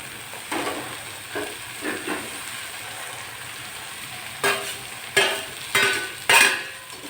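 Tomatoes hit a pan of cooking gongura, giving a continuous frying hiss broken by several sharp sizzling bursts and stirring strokes, close and fairly loud, with no talking.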